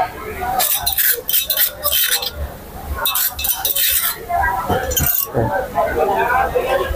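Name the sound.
pouring hilsa tail mash into a separate pot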